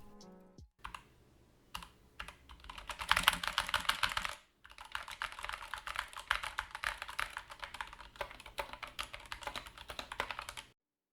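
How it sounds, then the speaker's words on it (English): Typing on a Dierya x Kemove DK61 Pro 60% mechanical keyboard: rapid, close key clacks in dense bursts with brief pauses, loud and alone without any voices. "I know you want me to describe typing on this keyboard, but I believe a sound test would do more justice for you guys."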